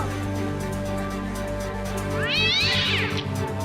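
A cat gives one drawn-out, wavering meow over a loud steady hum of background noise.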